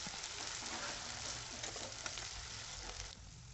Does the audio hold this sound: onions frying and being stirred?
yes